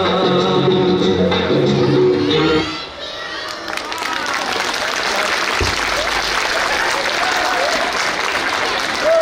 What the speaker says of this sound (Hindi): एक बार फिर जोरदार तालियों से हमारे नन्हे कलाकारों का उत्साह बढ़ा